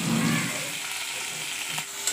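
Tomato and curry leaves frying in hot oil for a chickpea greens dish, a continuous near sizzle with light stirring sounds and no talking.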